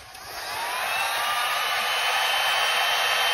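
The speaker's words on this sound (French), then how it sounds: "je vais aller juste chercher le fusil chauffant" A heat gun shrinks tubing in a cold garage, giving a steady, close blowing roar that swells slightly at the start and then holds even, with no talking.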